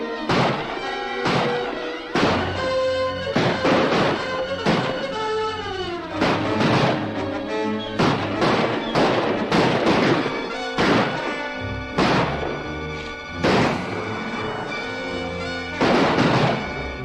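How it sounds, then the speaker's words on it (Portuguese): Loud, repeated blasts and crashes burst in rapid clusters, an intense Wild West gunfight against a dense, sustained backdrop. "Ouve-se um barulho muito intenso de troca de"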